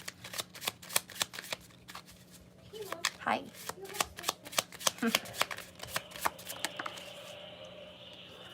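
Tarot cards riffle and slap through repeated shuffles, a steady run of crisp close bursts with a brief greeting spoken partway through.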